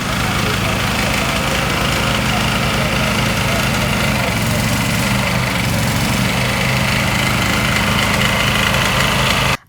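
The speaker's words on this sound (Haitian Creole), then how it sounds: "c'est le bruit des génératrices qui résonne" Electric power generators running during a blackout in Port-au-Prince, a loud, continuous engine drone with steady vibration that cuts off abruptly at the very end.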